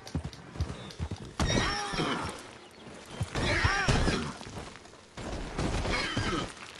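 A horse whinnies loudly and repeatedly, long shrill neighs rising and falling over a few seconds, mixed with hoof clatter and rustling nearby.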